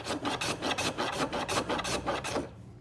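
Kakuri rebate plane cutting across the grain of wood, a rapid series of about a dozen rasping strokes in steady rhythm, close and clear, fading out at the end.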